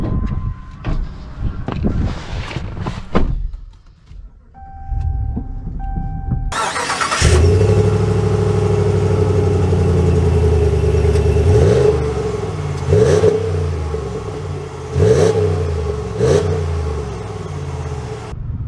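A 2022 Ram 1500 Black Widow pickup truck starts and pulls away: after some rustling and a brief chime, the engine fires up and holds a steady, loud rumble with several rising revs from inside the cab.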